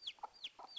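A mother hen, protective of her newly hatched chick, gives three short repeated clucks and squawks, close by and fairly quiet, with no talking.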